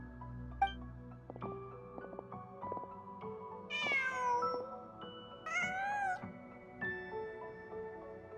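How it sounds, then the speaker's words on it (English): Cat meows in Genshin Impact, two or three drawn-out rising calls over a steady game soundtrack with soft background tones, moderately loud and close. "Huh. Just a cat."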